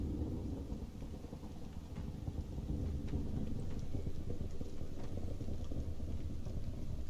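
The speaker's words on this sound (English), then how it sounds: "Would have to start raining." Rain and thunder in the video game Stranded: Alien Dawn, a steady wash of falling rain under deep rolling rumble that grows slightly louder midway, continuous and without talk.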